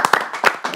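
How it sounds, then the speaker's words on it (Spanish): A few quick, close hand claps in a small studio during a live call-in program, sharp separate slaps for under a second. "Un aplauso a Magdalena."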